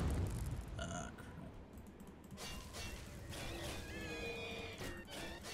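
A horse in the video game Oblivion whinnies faintly over a soft background rumble, the neigh rising and wavering near the end.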